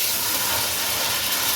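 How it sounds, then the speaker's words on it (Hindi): Beef frying in oil with garlic ginger paste, a steady loud sizzling hiss with no pauses, heard close up and alone. "अब गोश्त को इसमें कलर चेंज करने तक भून लें।"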